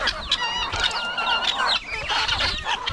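Farm chickens cluck and squawk in a busy, overlapping chorus, with repeated close calls rising and falling over a soft rural background.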